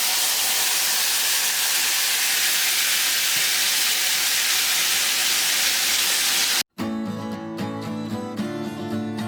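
Tomato puree hits a hot pan in an Indian home kitchen, giving a loud, steady sizzle with steamy hiss that runs unbroken for several seconds, then cuts abruptly to music.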